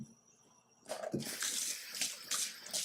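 Tap water pouring and splashing over raw pork in a sink, starting after a quiet moment and running steadily, close and moderately loud, with no talk.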